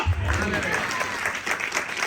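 Congregation clapping during a church service led by a pastor, a brief burst of applause mixed with a voice speaking over it.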